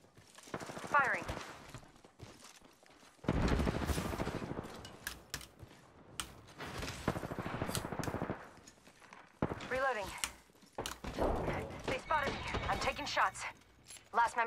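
Bursts of gunfire from an Apex Legends battle royale match, loud broadband cracks in clustered volleys with pauses between, mixed with game voice callouts and other effects.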